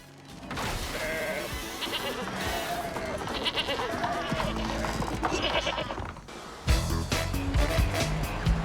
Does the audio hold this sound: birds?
no